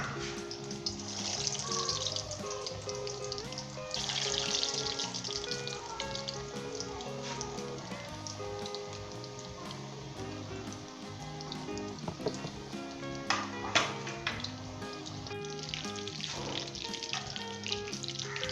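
Beef kofta fry in hot oil with a soft, steady sizzle and crackle, quiet and close, with a few brief louder spatters near the end.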